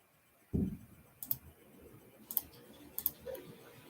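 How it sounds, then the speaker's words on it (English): A computer mouse clicking at a desk, a few sharp, quiet clicks spaced irregularly, some in quick pairs, over a soft room hiss. "Sorry if I'm clicking and doing all this stuff"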